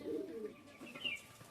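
A tournament racing pigeon gives a soft, low coo up close, a short murmuring call that fades after about a second, quiet and alone.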